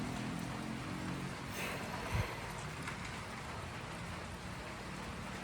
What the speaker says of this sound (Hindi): बारिश बिल्कुल थमने का नाम नहीं ले रही है